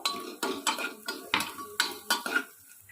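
Ginger, garlic and green chilli stirred with onion in a metal pan for chicken stew, a metal spatula scraping and clanking against the pan in about eight sharp, regular strokes, close and clear.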